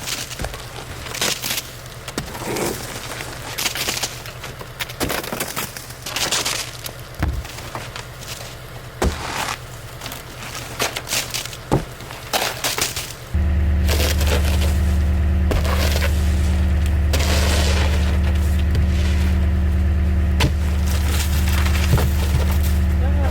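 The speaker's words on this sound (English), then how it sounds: "I like it when the ice-covered snow comes off in big sheets." Big sheets of ice-covered snow slide off at a northern homestead in winter, a series of close cracking, crunching and scraping bursts, joined partway through by a steady low engine-like hum underneath.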